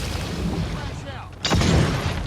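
A flashbang grenade bursts in the mobile shooter game Call of Duty Mobile, a sudden sharp blast rising out of game noise and a voice, then a sustained ringing boom.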